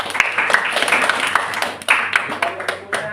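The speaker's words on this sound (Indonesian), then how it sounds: "Tepuk tangan dulu untuk kalian semua" A classroom group claps together, a quick burst of scattered, uneven hand claps lasting a few seconds, fairly close and loud.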